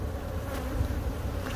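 Bees buzz steadily inside a fallen tree during a removal, a close, continuous low hum that holds at an even level throughout with no talking.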